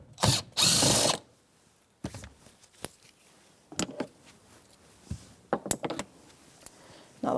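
Hand ratchet with a 10mm socket turning out tail light bolts on a 2013-2018 Toyota RAV4, with several loud close bursts of rapid clicking separated by quieter fumbling and tool taps.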